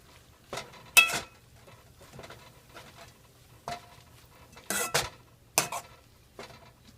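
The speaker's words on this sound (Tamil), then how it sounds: "கீரையை ஆட் பண்ணுறேன் நல்லா கலட்டி விடுங்க" Spinach is stirred in a pan for a paneer curry: a handful of sharp spoon-on-pan scrapes and clinks land at uneven intervals over a quiet background, close by, with no voices.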